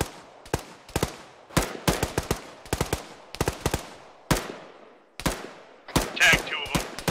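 Gunfire in a realism military shooter: a string of loud, sharp single shots and short bursts at irregular intervals. They crack out close over faint background noise, with some talk near the end.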